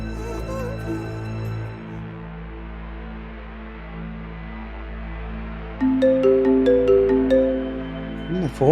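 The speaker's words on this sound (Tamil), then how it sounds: "போன் எங்க அடிக்குது?" A phone ringtone chimes in a repeating melodic pattern, coming in partway through over a steady low hum, fairly close and loud, with no talk.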